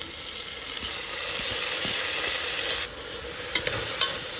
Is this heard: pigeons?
no